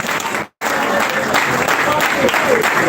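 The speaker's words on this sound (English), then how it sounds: "So let that clap, let it resound very well." A training-event audience claps loudly and steadily, a dense wash of applause with a brief cut near the start, welcoming the director onto the stage.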